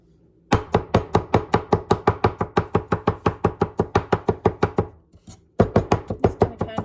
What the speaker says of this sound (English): Just going to kind of chop that up a little bit.